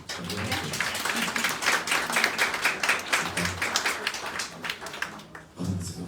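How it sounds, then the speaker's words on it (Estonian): Applause from an audience at a book presentation, a dense steady clapping that fills the room for about five seconds before easing off, close and fairly loud with no talk over it. "Teeme teile aplausi."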